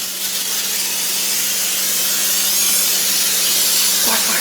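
Cooking spray hisses from a can onto popover cups, one loud, close, continuous spray held for several seconds without a break.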